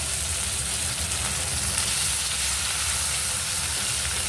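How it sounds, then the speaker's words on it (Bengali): Chopped onions fry in hot oil already tempered with cardamom, cinnamon and cloves, a dense, even sizzle that runs continuously and close throughout with no talking. "পেঁয়াজগুলো ভেজে নেবো"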